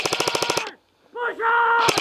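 Airsoft guns firing during a sector-control skirmish: a rapid close burst of about eight sharp shots, a short pause, a shouted call, then one more shot at the end.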